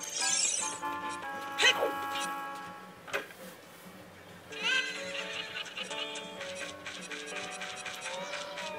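A horse whinnies in The Legend of Zelda: Ocarina of Time, sharp and high, over steady background music with ticking sound effects.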